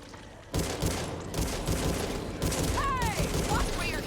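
Sustained gunfire in the zombie shooter Back 4 Blood, a dense fusillade of rapid shots going on nearly throughout, loud and close, with brief swooping tones among the blasts.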